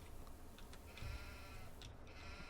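Sheep in the video game Farming Simulator 19 bleat faintly a few times over a steady background hum.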